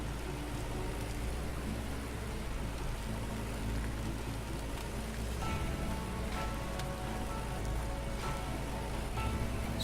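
Steady rain pours down in the farming video game Farmer's Dynasty, a continuous dense hiss with faint pattering drops and a low engine-like rumble beneath, no talking.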